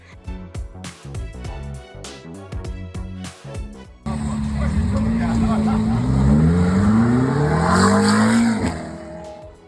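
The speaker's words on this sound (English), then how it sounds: "I've included 2 clips here of 2 McLarens that I saw." McLaren supercars out on the streets of Cape Town, around Camps Bay and the V&A Waterfront; a few seconds of rhythmic music give way to a loud, close engine revving and rising in pitch through repeated accelerations.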